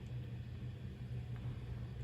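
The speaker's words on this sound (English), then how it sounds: "if you guys hear that buzzing in the background, that is my laptop kind of going at" An old laptop's fan whirs at full power, giving a faint, steady low buzz and rumble that runs through the short stretch with nothing else on top.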